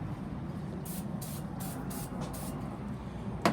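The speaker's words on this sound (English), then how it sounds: "And to get that off, use the brake parts cleaner." Brake parts cleaner sprayed onto a Suzuki Aerio brake rotor in five short hissing bursts close by, each about a quarter second, separated by brief gaps over a low background hum.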